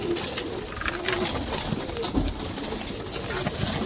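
Birds coo softly and repeatedly near their feed by a door, a close, steady murmur of calls with faint background noise and no talking.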